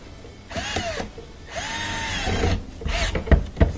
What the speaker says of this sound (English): Tighten up that screw.